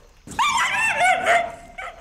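A dog gives a quick sequence of close, loud yelping barks and whimpers, two bursts standing out clearly over a quiet background.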